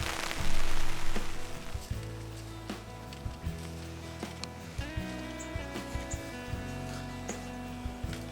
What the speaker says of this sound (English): We're in the middle of a thunderstorm.